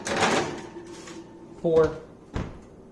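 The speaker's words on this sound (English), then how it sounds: "I'm going to take this pan and put it into the oven" An oven door clunks open and shut as a pan of candied bacon goes in, two short hollow bangs heard close by under a person talking.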